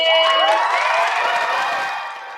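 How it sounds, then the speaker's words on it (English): Elementary school students at Monroe Elementary in Brooklyn Park clapping and cheering loudly for a surprised teacher, shrill children's shouts over dense applause that gradually fades. "Please give a round of applause for Mrs."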